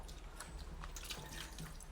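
Water squeezed by hand from soaked cooked rice into a vessel, giving close, wet splashes and drips in quick irregular bursts.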